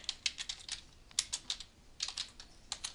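Quick, light keystrokes on a computer keyboard come in short bursts with brief pauses between, close and clear in a quiet room.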